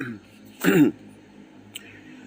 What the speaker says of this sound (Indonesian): Agak sedikit batuk anak